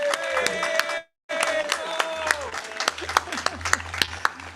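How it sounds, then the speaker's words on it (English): An audience at a climate policy talk breaks into scattered applause mixed with crowd voices and sharp individual claps, interrupted by a brief dropout, then continuing with talking over it. "We should just give him another round of applause."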